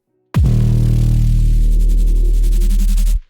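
A single loud, gritty drum and bass synth bass tone made in Serum, with group processing, drones for about three seconds, thick low end with crunchy distortion, then cuts off abruptly.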